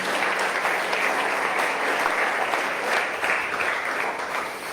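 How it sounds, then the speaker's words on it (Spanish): A church congregation claps together in sustained, dense applause that stays loud and steady throughout, with no voices rising above it. "Dele una ofrenda de palmas al rey."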